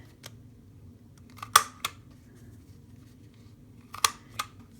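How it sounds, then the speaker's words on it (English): A deco corner punch cuts paper for a monthly journal cover, heard as a few sharp close clicks and crunches, two pairs spaced a couple of seconds apart in a quiet room. "we're going to simply deco corner cut this piece."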